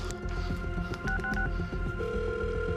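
A phone dials a string of quick keypad tones after a shooting, the steady beeps sounding close over a dense, throbbing background.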